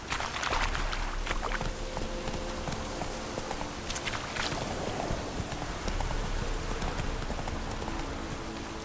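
A horse trots along in The Witcher 3 with a brisk, even hoof rhythm, close and clear over a bed of outdoor game ambience that sounds rain-like, with no voices.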